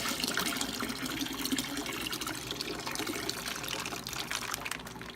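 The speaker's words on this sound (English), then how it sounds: "So adding some warm water." Warm water pours steadily into a bag in a primary fermenter during home winemaking, a continuous close splashing trickle with no talk over it.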